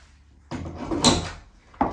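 A house door is swung and closed, giving a wooden scrape and clunk followed by a sharper knock at the end, close and alone without talk.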